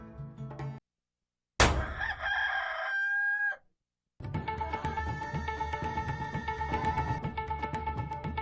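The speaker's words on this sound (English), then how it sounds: "You darn rooster." A rooster in an animated short film lets out one loud, drawn-out crow after a brief silence, followed by a busy, rhythmic stretch of other sound effects.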